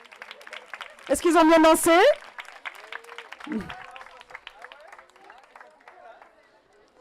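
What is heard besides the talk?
audience applauding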